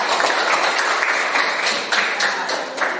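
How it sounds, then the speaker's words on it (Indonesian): A classroom of students claps for a classmate named Priscilia during an Indonesian language lesson, a steady patter of many hands filling the whole moment, fairly close and continuous. "Tepuk tangan buat Priscilia"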